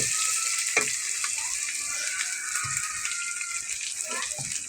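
Meat is dropped into a pan of frying onion, garam masala, bay leaf and garlic paste. A constant sizzle runs throughout, with occasional knocks and stirs and faint background voices.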